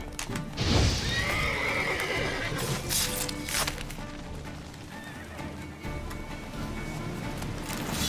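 Bandits' horses in The Witcher 3 video game neigh and whinny with clopping hooves, loud and close amid other game effects, with no one talking.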